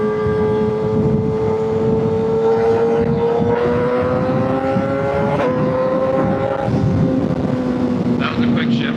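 A 2025 Kawasaki ZX-6R motorcycle engine pulls hard through the revs, its whine climbing steadily before a quick, sharp gear shift drops the pitch and it builds again, loud and close with wind rush throughout.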